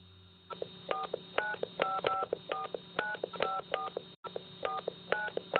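Keypad tones beep in a rapid irregular sequence as a telephone number is dialed, clear and close, with one brief gap before the last few digits.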